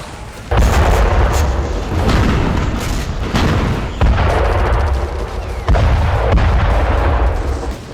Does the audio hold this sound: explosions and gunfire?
yes